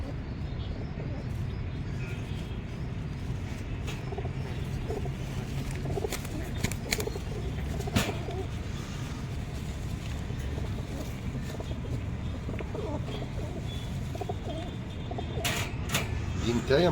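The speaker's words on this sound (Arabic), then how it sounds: "حمام شغال، حمام كويس" Pigeons in a loft coo softly amid constant broadband wind and handling noise, with scattered rustles, wing flutters and clicks close by; the birds' calls sit low under the steady background.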